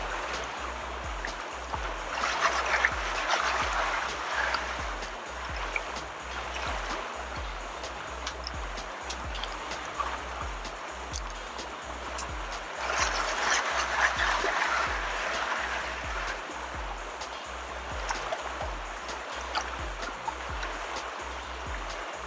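Water swirled in a conical gold-panning batea to wash off the lighter and coarser material, giving a continuous close sloshing and rushing that swells twice in slow waves, with gravel faintly rattling underneath.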